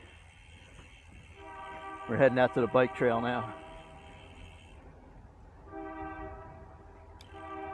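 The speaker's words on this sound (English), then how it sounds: "Looks like a long freight train." A long freight train sounds its horn in a quick series of loud, blaring blasts that stand out over a low rumble, with a person talking before and after.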